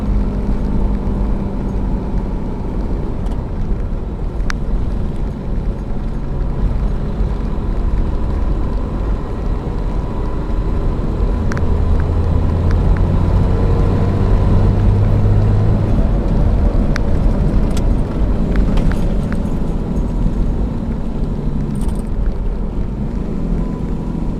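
A 12-valve Cummins diesel truck engine runs with its fuel plate adjusted for extra fueling, a loud, continuous low rumble that holds steady throughout with faint ticks over it.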